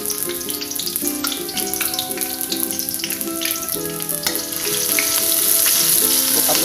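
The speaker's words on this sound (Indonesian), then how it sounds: "Nih minyaknya udah mateng, masukin bawangnya" Shallots frying in hot oil in a pan, a loud crackling sizzle with stirring throughout that grows brighter and louder toward the end, no talk.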